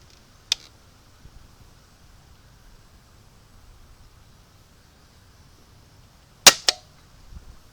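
A Bug-A-Salt salt gun shooting at flies fires a sharp, dry snap early on, then two quick pops in close succession several seconds later, with near silence in between.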